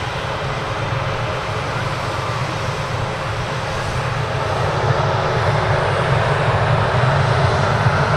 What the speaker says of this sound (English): A nice sound from that aircraft.